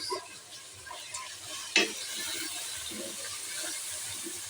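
Khichuri spices with salt, dry chilli powder and turmeric sizzle in a pot as they are stirred, a soft steady frying hiss with one sharp scrape of the spoon.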